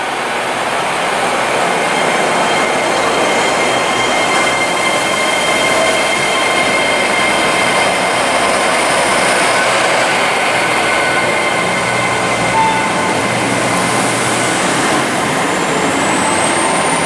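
A pair of Class 800 trains rolls through Reading station, a steady loud rumble of wheels and motors sustained throughout, with a faint rising whine near the end and no voices.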